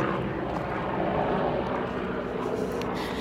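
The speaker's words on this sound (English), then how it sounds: "Helicopter." A helicopter passes overhead outdoors, and its broad, steady rotor and engine roar stays loud and constant throughout with no pauses.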